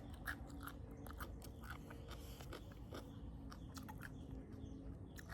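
Someone chews papaya salad (som tam) in a faint, close, continuous run of soft crunchy bites and wet mouth sounds, with no speech.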